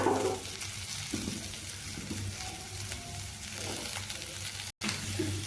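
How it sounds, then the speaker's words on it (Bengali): Bitter gourd and potato pieces frying in oil in a pan, a steady close sizzle with occasional stirring clatter and a brief cut near the end. "করলাগুলো আমার অর্ধেকটা পরিমাণ ভাজা হয়েছে মানে হাফ হাফ যখন ভাজা হবে সেই মুহূর্তে আমি এখানে কেটে রাখা আলুগুলোকে দিয়ে নিচ্ছি"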